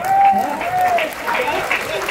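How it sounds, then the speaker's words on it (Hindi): Clapping fills the audience at a Hindi kavi sammelan poetry gathering, a lively crowd ovation heard under a voice talking over it for the whole short stretch. "ताली कम बजा रहे हो आप यार"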